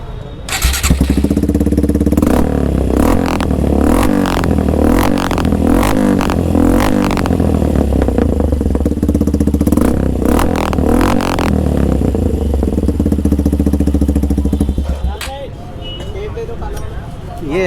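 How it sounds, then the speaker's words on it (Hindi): Suzuki Gixxer SF 150 fitted with a carbon-finish SC aftermarket exhaust, running close and loud with a deep idle rumble and a series of sharp throttle blips and revs before it settles down near the end. "ये अपना SC का और कार्बन फिनिश वाला जो मैंने दिखाया था इसका पहले आप साउंड सुन लो"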